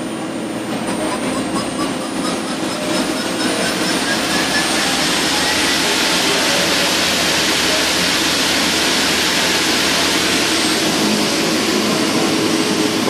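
A Mori Seiki NL1500SY turning center spins its spindle up to 5,000 RPM with a loud, dense, continuous roar and whine. The sound holds steady throughout without pause.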